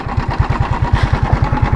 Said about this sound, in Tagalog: masama na yung tunog ng makina ko